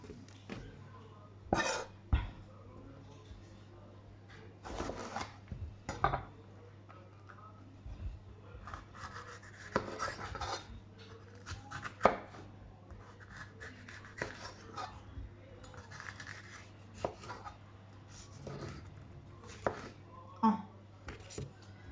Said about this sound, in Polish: Skroimy sobie resztkę papryki, która nam została.